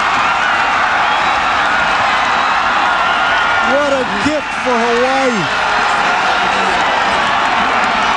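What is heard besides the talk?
stadium crowd cheering after Hawaii football win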